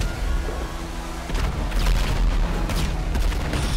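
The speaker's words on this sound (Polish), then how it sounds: "Co tu wybucha?" Explosions and blasts in the GTA Online video game, several rumbling booms and crackling bursts coming one after another, loud and dense with no pause.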